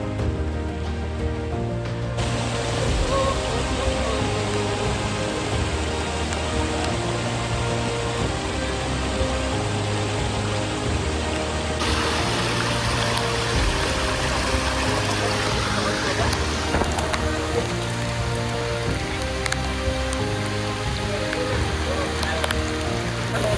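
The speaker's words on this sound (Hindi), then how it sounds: "भाई केमिति लागुची वर्षा रे" Steady, dense rain falls near a hidden waterfall in Nayagarh, a continuous hiss filling the whole stretch with low rhythmic sounds running underneath.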